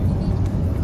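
A car engine with a rough, tempo-like rumble, heard from inside while driving through Gurugram. The drone is loud and steady and sits close by.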